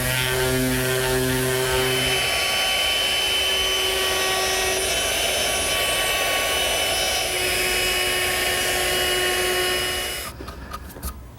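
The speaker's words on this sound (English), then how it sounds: "Now's the time to sand it smooth and ease the corners." A power sander smooths a wooden library ladder frame, a steady, loud whirring hum with a faint tonal whine that runs unbroken, then cuts off shortly before the end.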